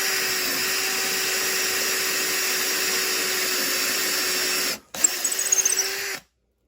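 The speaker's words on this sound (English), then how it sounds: "I'm going to drill below the crack." A power drill boring into a cracked wooden walking staff, whining at a steady high pitch for several seconds, cutting out briefly, then biting in again with a rougher, uneven grind before stopping.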